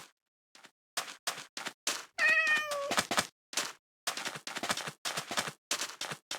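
A cat meows once in the horror video game From the Fog, a clear drawn-out mid-length cry heard over bursts of rapid gunfire-like rattling that come and go throughout.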